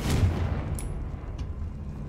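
A Confringo fire spell blasts off in Hogwarts Legacy, one short burst with a quick crackling tail and a couple of faint high pings after it.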